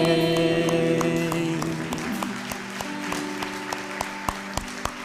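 A church congregation applauds during worship, the clapping starting over sustained music that fades out, then thinning into a few sharp, separate claps near the end.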